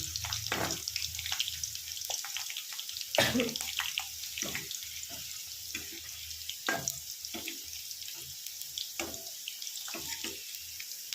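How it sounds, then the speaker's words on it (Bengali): Sliced bitter gourd fries in a pan with a soft, steady hiss, broken by scattered clinks and knocks of a utensil against the pan, close and fairly quiet, with no talking. "আমি সেভাবেই ভেজে নিচ্ছি এটা আমি পুরো স্টেপ বাই স্টেপ তোমাদেরকে দেখিয়ে দিচ্ছি"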